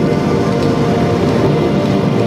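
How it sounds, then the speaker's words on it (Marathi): Rain just beginning to fall on a road during a motorbike ride, a steady close wash of noise with a low rumble underneath, continuous and fairly loud, with no voices. "आणि हा पाऊस असा हळूहळू चालू झालेला आहे, जास्त जोरात तर नाही आहे"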